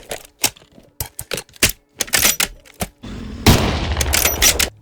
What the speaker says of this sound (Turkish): Şuradakini vurabilir miyim? Vurdum.